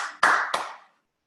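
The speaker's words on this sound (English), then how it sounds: "So if we can have an applause." Two short bursts of applause from a crowd, close and fairly loud, fading out quickly after about a second.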